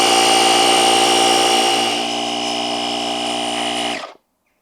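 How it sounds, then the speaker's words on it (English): A portable tyre inflator compressor runs loud and steady as it pumps a tyre toward 30 psi, dropping slightly in pitch partway through, then cuts off abruptly near the end, leaving silence. "press the plus button to go up to 30 psi and start the compressor"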